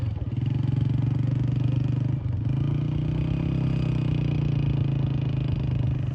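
A Honda motorcycle engine holds a steady, loud mid-pitched drone on a sandy track, with a brief dip near the two-second mark before settling back to an even hum.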